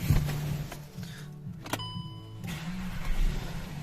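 A 2014 VW Passat B7 1.8 TSI engine cranks briefly and catches, then settles into a steady running rumble close by.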